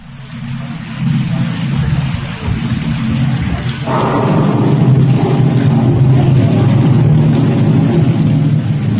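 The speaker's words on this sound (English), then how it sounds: "a tropical thunderstorm staged by Uganda in a realistic jungle setting" A staged tropical thunderstorm in a jungle setting at Expo 67: steady heavy rain pours with a deep rumble of thunder building underneath, growing louder partway through and holding a dense, continuous roar.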